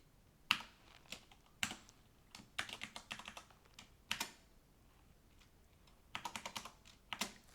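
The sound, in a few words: typing new password on computer keyboard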